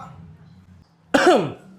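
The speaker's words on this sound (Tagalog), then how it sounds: "Grabe, lala ng ubo mo." After a low murmur and a brief pause, a single rough cough bursts out close by, loud and raspy, trailing off quickly.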